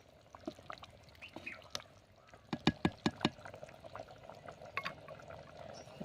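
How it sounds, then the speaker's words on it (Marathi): A spoon stirring rice with fresh coriander in a pot, with soft scraping and a cluster of sharper clinks against the metal in the middle, faint and close. "थोडंसं आता ढवळून घेऊया."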